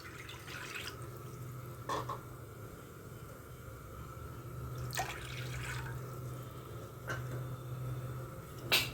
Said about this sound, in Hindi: इसके अंदर मैं डाल रही हूँ ये सारा पानी।